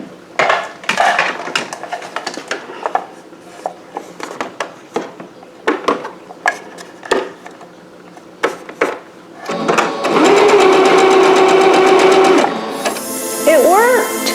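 A sewing machine runs in a steady mechanical whir for a couple of seconds, following a stretch of scattered clicks and taps nearby, with a voice speaking briefly at the end.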